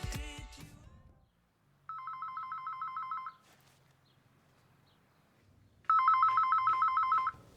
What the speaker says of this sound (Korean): 어느 날 한 통의 전화가 걸려옵니다